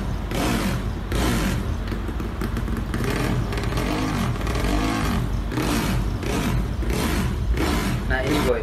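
A modified motorcycle engine roars close by, its pitch rising and falling in repeated revs, with rough clattering and a voice talking over it.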